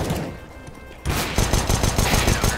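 Rapid automatic gunfire in the Counter-Strike: Global Offensive video game during a competitive match, a dense, loud burst of shots starting abruptly after a quieter stretch of game ambience.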